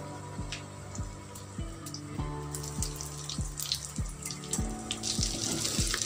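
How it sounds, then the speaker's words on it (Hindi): Four egg shami kebabs, dipped in batter, fry in a pan with a steady close sizzle and crackle, broken by a few soft low thumps. "चारों कबाबों को फ्राई कर लेते हैं।"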